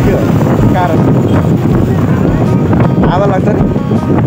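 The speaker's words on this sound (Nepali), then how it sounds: "हावा लाग्छ नि" Strong wind buffets the microphone in a loud, continuous rumble, with muffled voices talking underneath.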